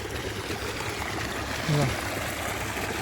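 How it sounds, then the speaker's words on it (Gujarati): A farm water pump runs slowly, its outflow making a steady rushing, trickling stream close by, with a faint voice in the background. "કંઈક પાણી કાઢે છે આપણું મશીન"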